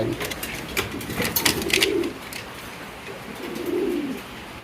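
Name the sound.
fancy pigeons cooing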